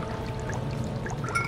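Oil being collected into a jar in Amnesia: The Dark Descent, a short steady pouring, trickling liquid sound heard alone.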